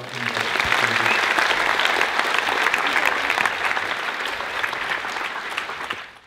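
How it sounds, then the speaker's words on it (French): An audience at a mentalist's show applauds loudly, sustained clapping from many hands at close range, with a few vocal sounds near the start, before the noise fades out abruptly at the end. "J'aimerais qu'on applaudisse très fort."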